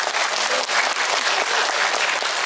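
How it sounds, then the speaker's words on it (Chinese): A theatre audience at a tenth-anniversary concert in the Ngau Chi Wan Civic Centre, Hong Kong, claps warmly, a dense, steady wash of applause that continues throughout. "正值得我们再一次给热烈掌声一次"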